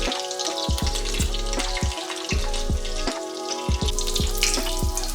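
Apple pancake batter sizzles steadily in hot clarified butter, a dense, close crackle of frying with repeated low thumps and clinks of a utensil against the pan, and no talk.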